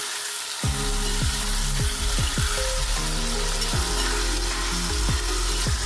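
Cumin seeds and spices with tomato and chilli roast in a hot pan, giving a steady loud sizzle with repeated scraping stirs from a spatula throughout, with no talking.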